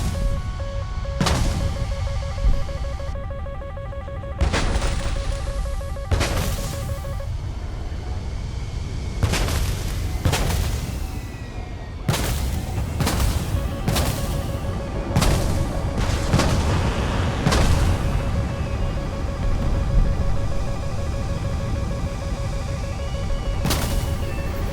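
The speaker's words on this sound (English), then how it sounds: "That missile hit me." Missile strike on a fighter jet in a flight combat game, with several heavy booms and explosive blasts bursting at irregular intervals over a constant loud rumbling jet engine drone and a steady warning tone.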